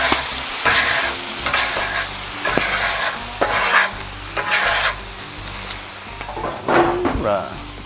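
A hot Blackstone griddle being washed down, with loud bursts of sizzling and hissing steam plus spatula scrapes in irregular strokes, close up, with some talk around it.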